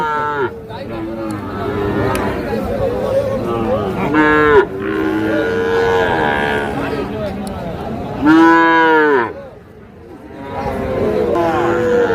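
At a busy livestock market, Sahiwal cattle moo loudly in several long, drawn-out calls, the bellows rising and falling close by. Crowd chatter and nearby voices run underneath throughout.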